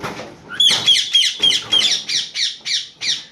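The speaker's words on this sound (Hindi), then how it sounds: "आज कितने दिनों बाद आप मैना की आवाज़ सुन रहे होंगे" A caged myna bird calls repeatedly, a steady series of about nine harsh, ringing squawks at an even rhythm, close and loud, with a low murmur just before the calls begin.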